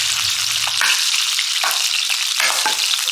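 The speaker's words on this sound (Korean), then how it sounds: "이 고기를 기름 두른 팬에 겉면만 노릇하게 구워줄 건데 생각보다 기름이 많이 튑니다." Pork belly pieces sear in a small amount of oil in a frying pan, giving a loud, steady crackling sizzle with spitting pops throughout and no talking.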